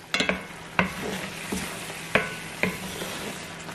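Ground beef keema frying in oil and being stirred in a pan, with a steady sizzle broken by several sharp scraping stir strokes at irregular intervals, close and moderately loud, with no talking.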